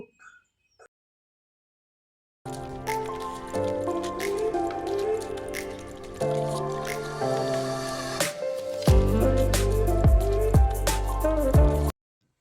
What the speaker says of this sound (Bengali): এবার এখানে সমস্ত উপকরণগুলো আমি একটা চামচ দিয়ে খুব ভালো করে মিক্স করে নেব।